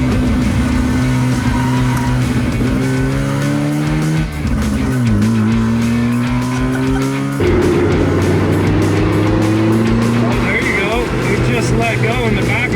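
A car driven hard on a twisty road, its engine revving loud and close in rising and falling sweeps through gear changes, with tyres squealing as the back end slides, while people talk over it.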